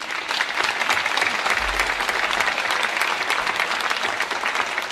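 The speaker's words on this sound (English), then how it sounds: "Another round of applause for them, please." A crowd at an academic awards ceremony claps steadily and loudly for several seconds, dense, sustained applause filling the room without letting up.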